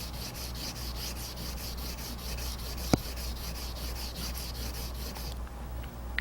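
A knife edge is pulled back and forth on a sharpening stone in a convexing clamp sharpening system, working the inside edge. Soft, steady, rhythmic rubbing strokes continue throughout, faint and close, with one brief tap.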